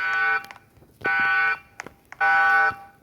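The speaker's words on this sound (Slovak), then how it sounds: "To si môžete zapnúť alarm." Prison alarm in the video game Roblox Brookhaven, a loud electronic buzzer-like tone sounding in three evenly spaced bursts of about half a second each, with short clicks in the gaps and no voices.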